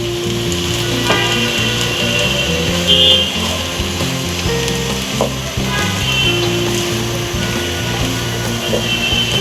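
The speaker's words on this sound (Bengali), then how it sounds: "আরও কিছুটা আধা টেবিল চামচের মতন বাটার আমি দিয়ে দিলাম" Butter melts over vegetables in a hot pan for a vegetable soup, giving a steady loud sizzle with crackling pops throughout, while tonal music runs along underneath.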